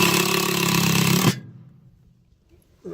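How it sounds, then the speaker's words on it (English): Power drill driving a screw into a diving board mounting plate on a Qwest Avanti LilliPad diving board, a loud close whirring grind lasting just over a second that stops abruptly, followed by near silence. "Install the second screw and the second plate."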